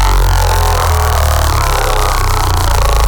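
A heavily distorted, crunchy dino bass synth, processed with distortion and a notch filter, drones loud and thick with a constant gritty buzz.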